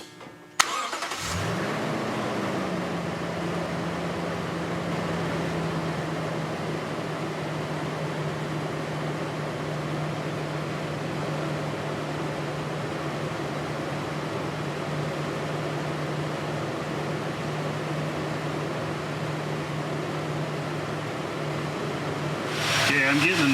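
A 2018 Toyota Tundra starts up and idles steadily during a transmission flush, a constant low engine hum held close for the whole stretch, with a brief start at the beginning and a rise in noise at the end.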